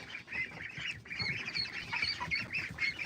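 A brood of fifteen young ducks, fresh from a heated brooder, quacks and peeps in a busy, overlapping chorus of short calls, steady and close for a few seconds with no talking.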